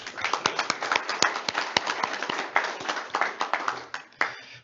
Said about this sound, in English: I'd just like to give Stan applause for the fishing tournament.